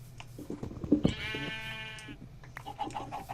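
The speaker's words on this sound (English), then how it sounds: "Every time I hear a sheep, guys, I just think it's gonna be a creeper" In a Minecraft-style video game, a sheep gives a single long, wavering bleat at medium distance over faint game ambience and clicking sounds.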